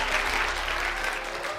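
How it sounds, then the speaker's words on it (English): An audience at a trivia show gives a sustained round of applause, a thick, even wash of clapping with a low hum underneath. "Everybody, give a good round of applause one more time for this round."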